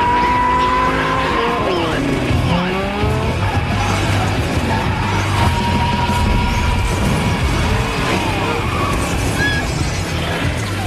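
Cars in a film race roar past with loud engines and repeated screeching tire skids, dense and continuous from start to finish, with a brief crash-like hit amid the din.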